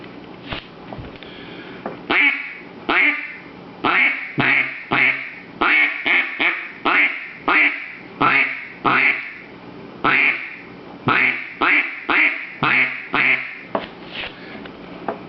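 A wooden duck call with a cork-seated reed, just readjusted, blown in a long run of short quacking notes, some single and some in quick clusters, loud and close with no talking.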